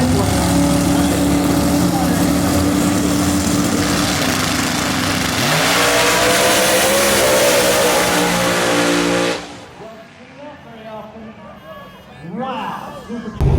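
A Pontiac Firebird Trans Am with a big-turbo 6.0 truck block drag racing at an XRP no-prep event: a loud, sustained roaring engine at full throttle that shifts pitch midway, then cuts off abruptly into fainter engine noise and background sounds.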